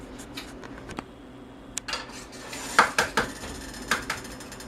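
A skillet with a little butter is handled on a stovetop, giving a few sharp metallic clanks and scrapes against a low background hum.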